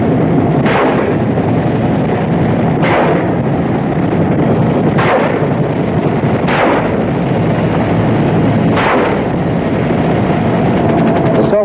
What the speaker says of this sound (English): One reason for the high cost of training is that the students fire live ammunition.